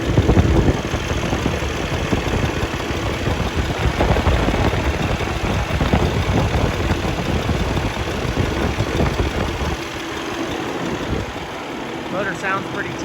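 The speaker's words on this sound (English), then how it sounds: "Motor sounds pretty tight." 2012 Kenworth T700 sleeper truck with a Cummins ISX diesel, recently given an in-frame overhaul, idling with a steady, loud, rumbling throb that eases slightly near the end, while someone talks over it.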